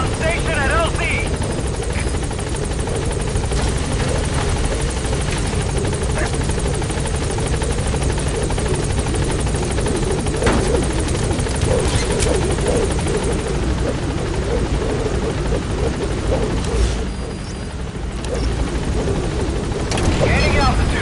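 A helicopter arrives at a landing zone in Metal Gear Solid V, its steady, loud rotor chop filling the scene while radio voices talk over it.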